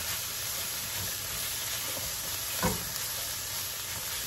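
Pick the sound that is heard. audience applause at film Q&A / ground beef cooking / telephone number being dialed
ground beef cooking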